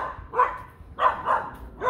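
Several dogs at a dog park bark in short, loud bursts, four sharp barks spaced across two seconds with a little background noise between them.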